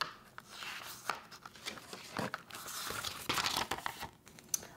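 Sony Alpha a7 III camera packaging being unwrapped and handled: close crinkling of plastic and paper, tearing and rustling in irregular bursts, with no talking.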